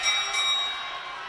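A bell rung for the final lap of a long track speed skating race at a championship, a bright sustained metallic ringing with sharp repeated strikes early on, then a lingering tone over the arena.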